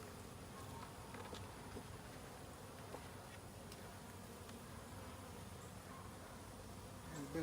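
A steady, dense drone of honeybees surrounds an opened hive during an inspection of honey and nectar frames, continuous and fairly close throughout.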